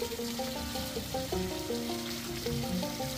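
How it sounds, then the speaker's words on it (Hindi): Natural spring water runs from a thin pipe into bottles at a cave site in Himachal Pradesh, a steady close trickle and splash. Bubbling, rising filling tones stack up over it, with no talk. "हाँ ये देखो नेचुरल मिनरल वाटर भरा जा रहा है,"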